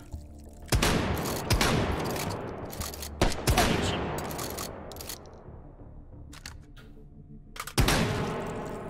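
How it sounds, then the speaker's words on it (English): Shotgun blasts in the VR game Hot Dogs, Horseshoes & Hand Grenades, several sharp loud booms spaced a second or more apart with decaying tails and mechanical clatter between, close and prominent, no talking. "we got those new shotgun sounds"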